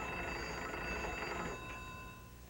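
A telephone bell rings steadily in a room, a sustained bright ringing tone lasting a couple of seconds before it is answered, fading slightly near the end.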